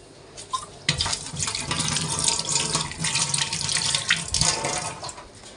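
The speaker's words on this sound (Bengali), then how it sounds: "এটা ভালো করে ধুয়ে নিই আগে।" Lemon leaves are washed under a running kitchen tap, with water splashing steadily and loudly at close range for several seconds.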